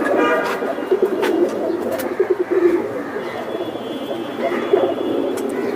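Pigeons coo in soft, repeated guttural bursts while being held and handled for inspection at a pigeon market, close by, with faint background voices.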